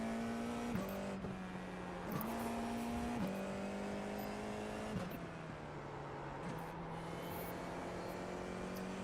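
An F4 single-seater race car engine at the Okayama circuit revs hard and steadily, its pitch climbing through each gear then dropping at repeated upshifts, loud and continuous with no voices.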